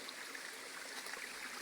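A small waterfall pours into a stream near an old tree, a soft continuous hiss of splashing water, faint and steady with no voices.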